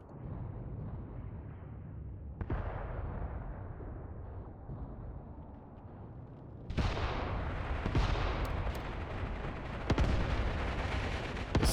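Gunfire and artillery in the video game Mius Front during an assault near Farmstead Mokryy, a continuous rumbling barrage with sharp bursts and heavier blasts growing louder partway through, without talk.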